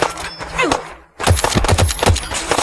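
Rapid gunfire from an IMI .50AE Desert Eagle in the Fallout 4 video game, loud sharp shots after a brief pause, with a voice talking over them.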